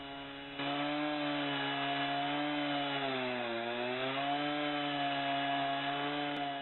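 A Logosol M7 chainsaw sawmill cuts planks outdoors in the woods, its engine starting up and then holding a loud, steady, buzzing whine that dips slightly in pitch mid-cut as the blade works through the log.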